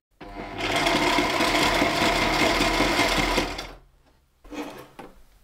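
A Sailrite sewing machine on a boat stitches through thick material, a loud, fast, rattling run of stitches for about three seconds, then a pause and a short second burst.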